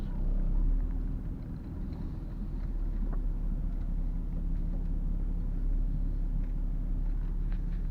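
Large truck hauling steel pipe of at least four-foot diameter rumbles past on a busy construction road, a loud, steady low drone with wind buffeting the microphone and no talk.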